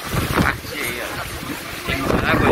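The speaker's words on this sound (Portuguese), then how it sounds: "pensa numa ventania violenta!" A violent gale roars across the microphone on a catamaran headed for natural pools, a loud, constant rumble with rushing gusts and waves beneath it.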